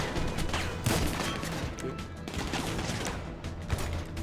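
Dense, continuous gunfire from the video game GTA 5, with overlapping shots and bursts filling the whole stretch at steady loudness, with no clear gaps.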